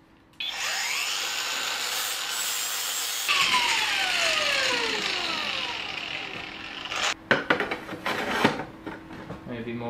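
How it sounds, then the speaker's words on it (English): A steel blade on a homemade slate cutter is ground and sharpened with a power tool, a loud continuous whine that rises and falls, then ends in a few short scraping bursts, with no talk over it. "Let's try sharpening it up."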